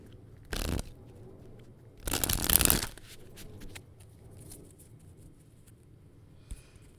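Tarot cards being shuffled in two short bursts, one brief and one longer riffle, close and fairly loud, with a faint tap near the end and quiet room background between.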